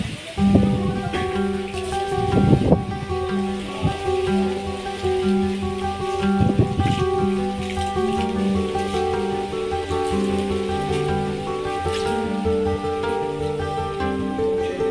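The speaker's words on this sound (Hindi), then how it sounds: "अभी मतलब जो बारिश हो रहा है उस साइड से बारिश हो रहा है, उस साइड से इस साइड हो रहा है" Steady rain driven sideways by Cyclone Remal falls outdoors, a continuous hiss with spattering drops, while someone talks over it and some sustained tonal sounds run underneath.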